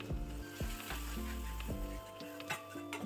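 Masala paste with tomato puree sizzling and frying steadily in a pan for a Maharashtrian village-style spicy brinjal curry, a continuous close crackle with soft stirring scrapes, alongside sustained tonal music.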